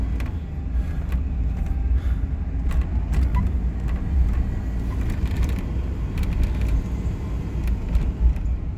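A pickup truck engine idling steadily after a faulty throttle position sensor was replaced, no longer stalling: a continuous low rumble with scattered light clicks and knocks nearby, no talking.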